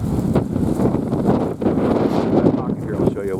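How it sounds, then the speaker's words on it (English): Steady wind buffets the microphone beneath southern live oak trees on the Mississippi Gulf Coast, a loud continuous rumble with faint rustling. Someone speaks over it. "I'll show you while it's windy."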